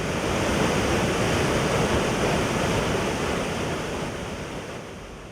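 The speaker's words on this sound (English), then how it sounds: "nature's power reveals itself at the magnificent Dambarare waterfall." Dambarare waterfall deep in Nyungwe forest, Rwanda, roaring as a dense, continuous broadband rush of falling water that slowly fades toward the end, with no voices.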